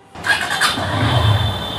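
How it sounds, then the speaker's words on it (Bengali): A motorbike engine cranks and catches on a rainy evening in the city, firing up within a quarter second and settling into a loud, close, steady idle. "তাহলে বাইক স্টার্ট দেই।"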